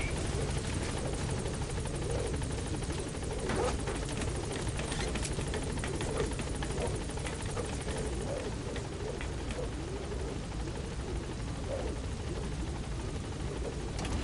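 Helicopter from Metal Gear Solid 5: The Phantom Pain arriving at a landing zone, its steady rotor thump and engine drone loud and continuous throughout, with no talk.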